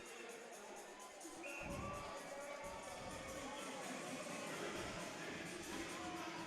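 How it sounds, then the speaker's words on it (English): A hockey arena crowd at a Shreveport Mudbugs game against the Amarillo Bulls at the Amarillo Civic Center, buzzing with a steady distant murmur that swells after a moment, with an announcer talking over it. "this crowd is buzzing"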